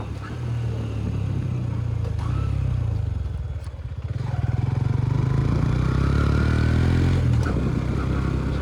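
Honda CB125 Hornet 125cc motorcycle droning steadily while riding, a continuous mid-pitched exhaust note that dips briefly then swells again, close and loud with wind rush, no talk.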